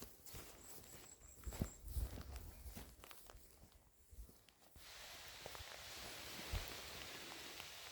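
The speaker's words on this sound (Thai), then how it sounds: "ฝนลงเม็ดปอกแป๊กปอกแป๊กเล้จ้ะ" Light rain begins pattering down on a path in the countryside during mushroom picking, a soft scattered ticking that swells into a steady hiss after a few seconds, with faint footsteps earlier on.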